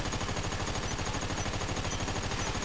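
Submachine gun fire at the Ammu-Nation shooting range in GTA V, a steady rapid stream of shots running the whole time, loud and close, with no talking.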